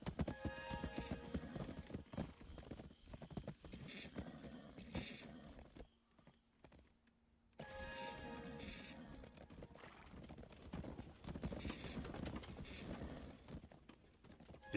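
Hooves clip-clop steadily while riding a horse in the video game Black Desert Online, a close, rhythmic galloping beat with whinnies and game effects over it, broken by a brief near-silent gap midway.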